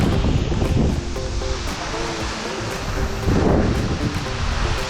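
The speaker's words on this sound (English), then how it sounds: "Lower Calf Creek Falls." Lower Calf Creek Falls, a waterfall near Escalante, Utah, gives a steady broadband roar of falling water, loud and continuous, with some wind buffeting on the microphone.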